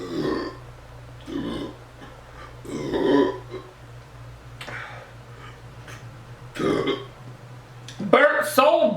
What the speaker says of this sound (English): I got a burp so big.